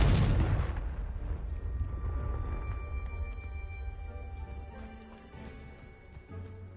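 Confringo fire blast spell cast in Hogwarts Legacy, a loud booming burst at the start that rumbles and decays into a lingering fiery crackle and low ambient roar, with faint chimes over the tail.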